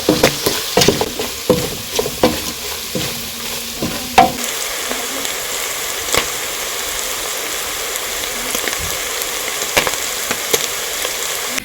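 Seasoned beef tripe being stirred in a pot, with scraping and clattering stir strokes over a steady sizzle for the first few seconds, then a softer continuous frying hiss with occasional faint knocks.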